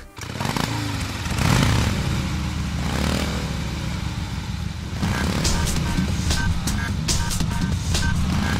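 A revving motorcycle engine is woven into the stage music from the Shadow the Hedgehog video game, loud and dense, with the engine roar swelling and falling inside a busy, continuous soundtrack.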